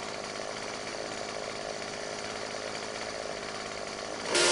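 A chainsaw in the 7 Days to Die zombie survival game runs in a steady, loud buzzing drone that holds for several seconds before a sudden harsh burst at the end.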